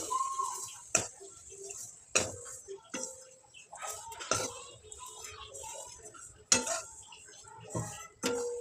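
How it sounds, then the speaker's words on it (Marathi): Broken vermicelli is stirred in ghee in a kadhai over a low flame. A metal spatula strikes the pan in sharp, irregular clinks, separated by quieter scraping and shuffling. "आता ह्या शेवया तुपात चांगल्या परतून घेते।"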